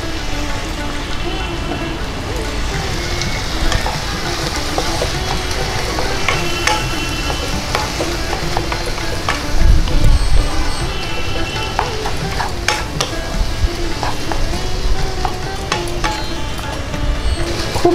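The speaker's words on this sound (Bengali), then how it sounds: "খুব ভালো করে নাড়িয়ে চাড়িয়ে এটাকে কষিয়ে নেব" Chicken keema with ground cumin, coriander and chilli powder fries and gets stirred in a pan, a steady close sizzle broken by repeated scraping stirs and clicks from the spoon against the pan.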